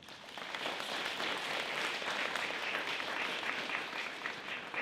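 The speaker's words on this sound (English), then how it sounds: "And applause for our veterans as well." Audience applause honoring veterans at a university honors event, a full, sustained wash of clapping from a roomful of people that swells quickly and holds steady for several seconds.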